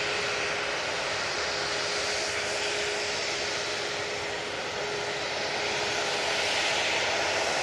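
A Jet2 Boeing 737-800 airliner taking off from Manchester Airport, a loud sustained roar of jet engines with a steady broadband rush and no speech.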